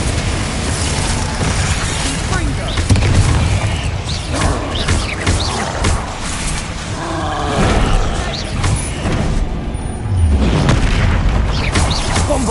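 Repeated booming blasts from Bombarda and Confringo spells in the video game Hogwarts Legacy, a continuous roar of explosions and combat effects rising and falling throughout.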